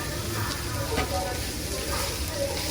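Green beans sauté in a pan for dinner, giving an even close sizzling hiss throughout, with no talk.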